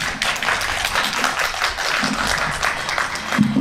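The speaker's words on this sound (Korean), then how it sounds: "여러분 큰 박수 부탁드립니다." Audience applause at an urban-farming talk concert during an agricultural fair, a steady dense patter of many hands clapping that fills the whole stretch at an even loudness, with faint voices mixed in.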